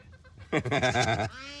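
A single goat bleats loudly and close by in a wavering, harmonic cry lasting under a second, with faint background noise before and a softer tonal tail after.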